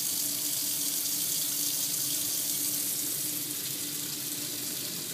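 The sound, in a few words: hot water tap running from Keston C36 boiler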